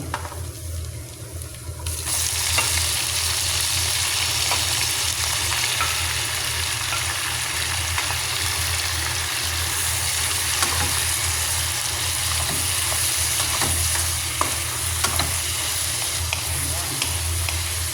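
Shrimp sizzling in a hot pan of garlic butter, a steady loud fry starting abruptly after a brief quieter moment and continuing throughout with occasional pops and stirring clinks.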